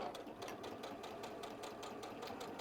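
A sewing machine hemming the curved edge of an apron, a fast steady mechanical whirr with rapid needle ticking, quiet and continuous with no talk.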